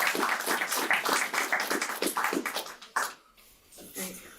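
Audience applause at a school district board of trustees special meeting, a steady crowd clapping for about three seconds before fading, with a voice starting to talk as it dies down.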